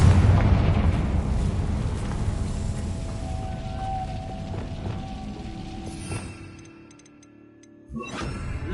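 A Confringo explosive spell in the game Hogwarts Legacy goes off with a loud, rumbling blast that fills the opening seconds, then a long decaying roar that dips nearly to silence before a second burst near the end.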